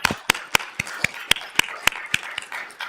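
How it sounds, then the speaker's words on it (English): Audience applause at a League of Women Voters candidate forum in Cass County: about ten crisp, evenly spaced claps in a steady rhythm, moderately close, with no talking over them. "let's everyone give them a round of applause"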